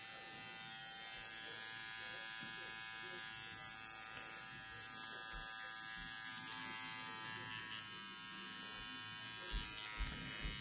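Rotary tattoo machine fitted with cartridge needles runs in a steady, close electric buzz for the whole stretch, with a faint voice briefly underneath.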